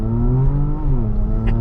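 A 2017 Porsche Macan GTS SUV with active exhaust and turbos revs loudly and close, its deep droning engine note rising and falling.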